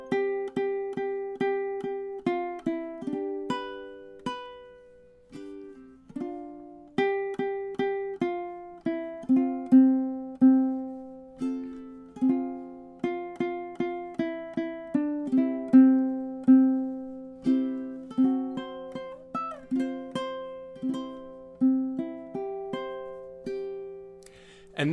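Solo ukulele plays the chorus once through, with plucked and strummed chords in a steady gentle rhythm, close and clear with no talking.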